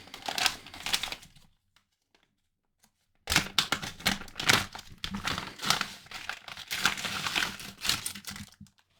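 Coins and their packaging being taken out of a bag: dense crinkling, rustling and small clinks in two bursts separated by a short quiet gap.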